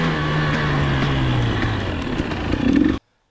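A loud KTM, Husqvarna or Gas Gas TPI dirt bike engine running rough, revving and sputtering unevenly, with a low droning pitch that wavers and rises near the end before cutting off abruptly.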